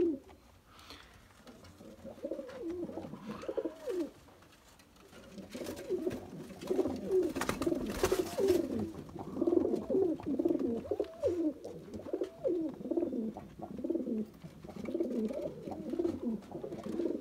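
Pigeons coo continuously in soft, overlapping, throaty calls from several birds, with quieter moments and no talking.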